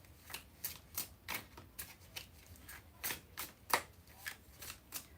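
A deck of playing cards is shuffled repeatedly, giving about a dozen quick, rhythmic riffling bursts at close range with no talking.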